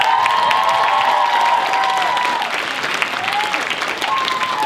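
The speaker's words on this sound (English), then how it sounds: "Everyone, please give them a round of applause again." Audience at a high school cultural show applauding steadily, a dense wash of clapping with scattered cheers and whistles, easing slightly toward the end.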